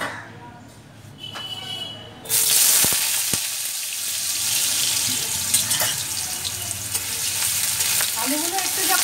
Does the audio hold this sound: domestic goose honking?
no